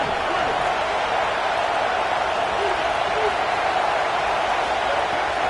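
A packed stadium crowd at a Michigan football game roars in a steady, dense wash of cheering that holds at a constant loud level throughout.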